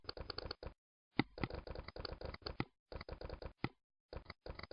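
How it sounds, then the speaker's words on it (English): Rapid clicking from a computer keyboard and mouse during diagram editing, in irregular bursts of close, crisp taps separated by short pauses, with no voices. "hold the Control key down on your keyboard and map out the join path"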